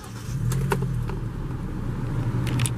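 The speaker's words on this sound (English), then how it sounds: "go ahead and start it, just insert the key" A 2011 Hyundai Elantra Limited with 153,000 miles starts up, its engine catching and settling into a steady, close idle hum.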